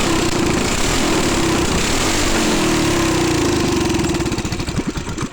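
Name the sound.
224cc engine running after 98 main jet and clutch fitted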